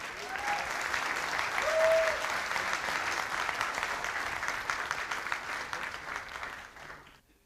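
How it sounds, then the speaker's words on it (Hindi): Loud, sustained applause fills a hall at an industry event, a thick wash of clapping holding steady for several seconds before tapering off at the end, with faint voices mixed in. "जोरदार तालियां हो जाएं।"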